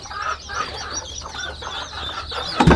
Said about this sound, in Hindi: साथ ही साथ दोस्तों हमारे 2 मुर्गियां और कुड़क हुई हैं, देख सकते हैं।